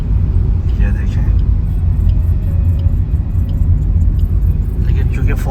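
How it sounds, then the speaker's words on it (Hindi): A Suzuki Swift 2023 creeps slowly uphill through fog on a mountain road, its engine a steady close low rumble throughout, with a person talking over it. "लेकिन चूँकि फॉग है इसलिए तो हम गाड़ी भी स्लो चला रहे हैं"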